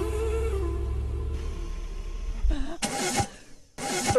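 A brand new car's engine cranks in two bursts of harsh starter grinding separated by a short pause, failing to catch, after a stretch of low rumbling.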